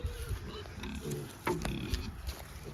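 Piglets at weaning time grunt and squeal softly inside a pasture pen, with scattered knocks and rustling close by.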